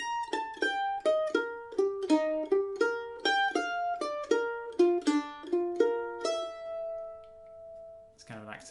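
Mandolin plays a quick phrase from the B part of President Garfield's Hornpipe, a run of clear picked notes ending on a held tone, followed by a short voice.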